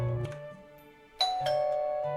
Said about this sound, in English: Suddenly the doorbell rings.